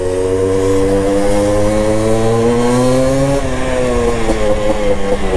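Yamaha DT200 two-stroke motorcycle engine buzzing loud and close, its pitch holding high then dropping as the throttle eases, a raspy continuous drone with no talk.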